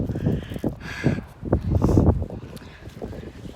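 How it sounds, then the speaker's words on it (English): Strong wind buffets the microphone outdoors in loud, uneven gusts, roaring steadily with brief swells and no voices. "it's so windy you wouldn't be able to hear anything"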